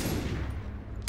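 Gunfire in Far Cry 3, a muffled burst rumbling low through the moment, then a sharp loud crack right at the end.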